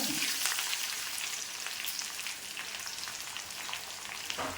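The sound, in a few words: curry leaves sizzling in hot oil for chickpea curry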